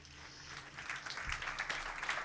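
A summit audience applauds the Refashion team with light, scattered clapping that builds slightly in the second half, fairly soft and distant.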